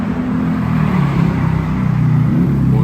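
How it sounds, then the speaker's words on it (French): A Corvette arrives at full throttle on a Miami street, its engine a loud, sustained roar over a steady low rumble that barely wavers across the whole stretch, with no voices. "des Corvettes comme ça, j'en vois tout le temps, mais celle-ci, elle est belle et il est arrivé à fond"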